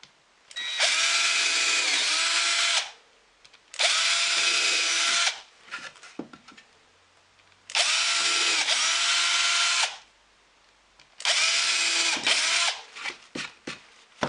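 A power drill bores holes into a wooden storage box in four separate loud bursts of roughly two seconds each, with short pauses and small handling clatters between them.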